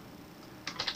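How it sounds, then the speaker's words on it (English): A few quick keystrokes on a computer keyboard, short clicks bunched at the very end after a near-silent stretch, close and soft with no talk. "I press enter or return on the keyboard"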